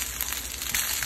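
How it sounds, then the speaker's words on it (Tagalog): Pork adobo fries in a pan and is stirred, giving a brief, close, steady sizzle with light crackles. "Halu-haluin, iprito-prito"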